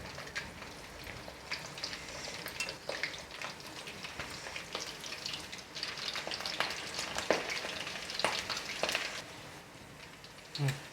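Slit green chilies frying in hot oil for restaurant-style chicken pakoda, a soft steady sizzle with scattered crackles and pops, fairly quiet and continuous with no voices.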